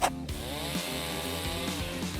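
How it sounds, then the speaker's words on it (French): A motorized saw buzzes steadily with a wavering pitch, cutting off excess material of a roof up close after a brief sharp start. "On scie ce qui dépasse."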